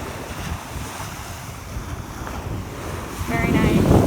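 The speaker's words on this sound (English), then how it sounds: "the waves are very loud today" Ocean waves roll onto the beach on Captiva island, a broad, steady roar mixed with wind buffeting the microphone, swelling louder near the end.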